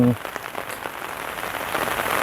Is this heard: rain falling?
yes